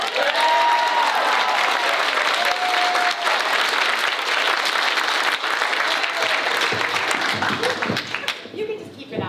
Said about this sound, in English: I think we should give a round of applause for Cory Booker